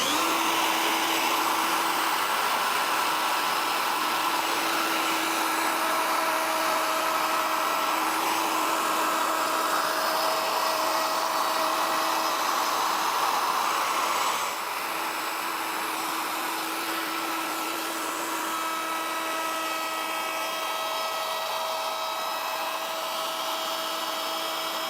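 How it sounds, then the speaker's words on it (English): A router with a guide bush cuts a channel in two passes, a loud, steady high whine running unbroken, dropping slightly in level midway, with no speech. "I don't have a 17mm router bit that exactly matches the outside diameter of my guide bush for my router, so I'm going to have to take two passes"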